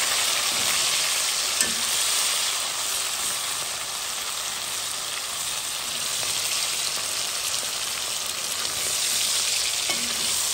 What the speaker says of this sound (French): Les oignons! Allez là. Les oignons. Je mélange bien tout ça.